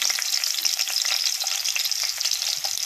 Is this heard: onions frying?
yes